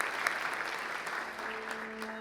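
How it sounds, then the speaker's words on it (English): An audience applauding for soprano and jazz singer Clara Shin after the national anthem at a city State of the City event, a brief burst of steady, moderately loud clapping from a crowd. "Let's give her a round of applause"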